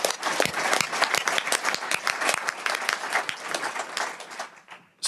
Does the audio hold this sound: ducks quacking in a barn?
no